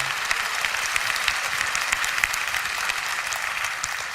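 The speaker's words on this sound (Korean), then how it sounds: "하나님께 영광의 박수를 올려드립니다." Church congregation applause at a prayer meeting, a dense, continuous round of clapping from a large crowd with scattered sharper claps standing out, steady in level throughout.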